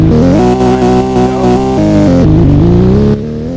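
A Nissan Skyline in a Roblox racing game accelerates hard through two gears, its loud engine note climbing steadily with a shift drop partway through, continuous and alone.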